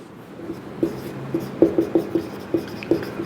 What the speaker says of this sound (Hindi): तो सबसे पहले हम लोग लिस्ट लिखते जाएंगे महारत्न कंपनी की।